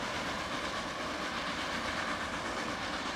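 A train in a video game runs steadily, giving a continuous dense rumble and rattle that does not change over the few seconds.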